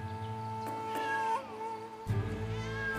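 A cat meows several times, drawn-out plaintive calls close by over a steady background hum, with a brief noisy burst partway through.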